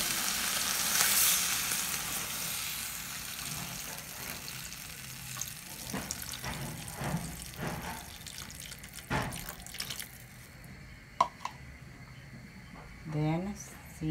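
Beef and string beans bubbling and sizzling in a pan after water is added, a steady hiss with soft pops and scraping stirs, close and moderately loud.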